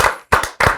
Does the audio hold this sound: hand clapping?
yes